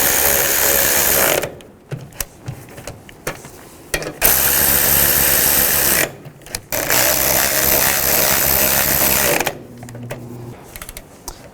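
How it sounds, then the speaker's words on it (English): A power tool tightens the strut assembly bolts on a 2010-2017 Chevrolet Equinox. Several loud bursts of buzzing, whirring rattle each run a few seconds, separated by short pauses. "Now tighten these bolts down."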